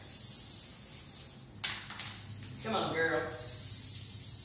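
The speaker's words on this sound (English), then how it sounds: "I'm just going to spray this top and lay my first piece of fabric" A spray can puts adhesive onto a tabletop before fabric is laid on it, producing a short hiss of spray that rises and falls while a voice speaks briefly over it.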